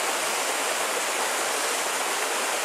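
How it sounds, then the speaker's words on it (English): Creek water flows continuously at Chickasaw National Recreation Area, a close, dense, even rushing wash that holds steady throughout with no voices. "This is a beautiful area, flowing water."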